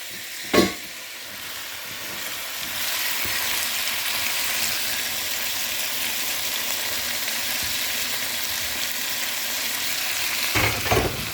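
Zuppa di pesce sizzles steadily in a hot pan, a bright continuous frying hiss after a brief stir clatter at the start, with another clink near the end.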